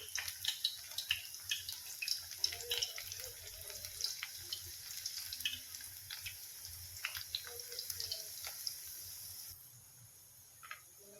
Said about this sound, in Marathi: आता मी मुटकी टाकते आपल्याला मंद आचेवरच तळून घ्यायचे आहे